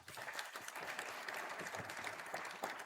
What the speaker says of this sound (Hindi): प्रभु को जोर से ताली बजाइए